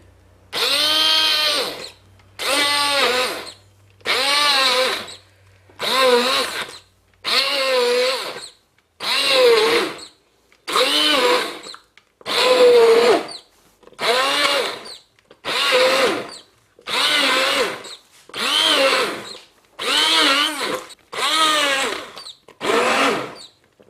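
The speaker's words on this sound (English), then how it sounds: "If you put the blender into the mixture, it's less likely to splash" A hand blender whirs through vegetable soup in about fourteen even bursts, each a couple of seconds long with brief pauses between, loud and close.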